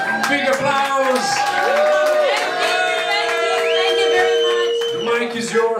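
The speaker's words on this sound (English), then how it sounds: "Big applause!" Live audience at a Eurovision preview concert in Copenhagen claps and cheers loudly, with whoops rising over a sustained musical chord and a voice on top.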